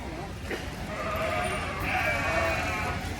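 Show sheep bleating in a barn while being haltered and having protective boots removed for a livestock show, a few tonal calls rising over steady background noise and nearby chatter.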